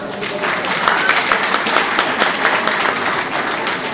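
Audience applause at an evening ceremony in Netanya with speeches, steady dense clapping at fairly close range, continuing evenly throughout.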